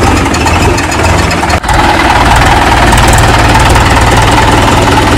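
A Swaraj 575 tractor engine runs loud and close, a steady throbbing idle with a knocking low rumble that holds throughout, with one brief dip partway through and no talk.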